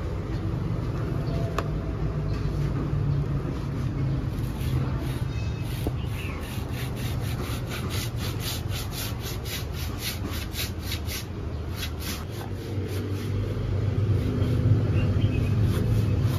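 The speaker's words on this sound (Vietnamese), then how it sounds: "bây giờ mình sẽ cưa nha" Steady rasping strokes of a hand saw cutting wood, close by and continuous, with faint background noise and no talking.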